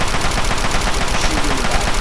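Automatic gunfire in the video game Fallout 3, a dense, continuous rattle of rapid shots lasting throughout at steady loud volume, with no speech over it.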